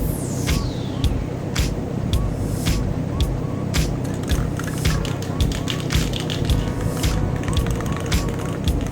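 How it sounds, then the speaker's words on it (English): Rust-protection spray hisses into holes on a Capri 25 trailer in a series of short, sharp bursts over steady background noise, close to the microphone. "a little bit of spray."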